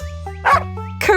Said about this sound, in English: Correct! It's a dog!